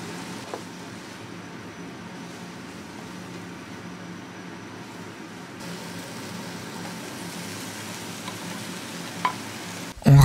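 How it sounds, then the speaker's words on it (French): Chicken escalopes fry over high heat in a pan with a steady, moderate sizzle that holds throughout, ending in a brief louder clatter, no voices. "Tout d'abord, on fait revenir les escalopes à feu vif."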